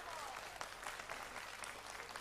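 An audience at a benefit concert for a singer applauds, with steady, dense clapping that sounds somewhat distant and soft and carries on throughout.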